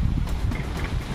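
Strong wind buffeting an outdoor microphone, a steady low rumbling roar with gusty surges lasting throughout, no voices.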